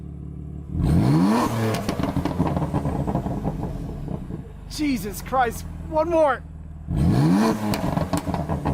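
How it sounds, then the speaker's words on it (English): A BMW F80 M3 fitted with downpipes revs to around 5000 rpm in two loud, close bursts with a deep rising roar, separated by a quieter idle, with excited voices talking and exclaiming between them. "we're gonna get these 5K revs for you guys."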